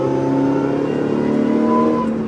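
Car on the Winton race circuit accelerating out of a corner, its engine note loud and sustained with rising revs, heard close and alone.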